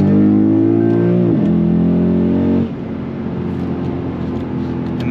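A Lexus GS F engine rev-matches on a downshift, a loud, close, steady drone that swells in pitch and then drops to a lower, rougher hum.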